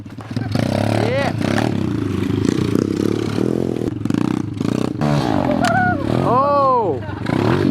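Pit bike fitted with a 143 kit engine revving hard and loud up close, with clattering and scraping mixed in and people talking over the engine noise throughout.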